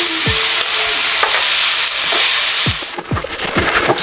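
Onion and salt frying in oil in a pot for lamb rogan josh, a loud close hissing sizzle with a few quick metallic scraping strokes from stirring near the end.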